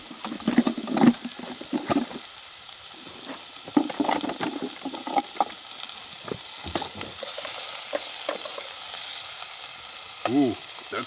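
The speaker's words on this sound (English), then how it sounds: "So I'm gonna throw on the Japanese stir fry first." Japanese stir fry sizzling in a pan at a campsite, a steady crackling fry with scattered clinks and stirring sounds, fairly close and moderately loud, no talk.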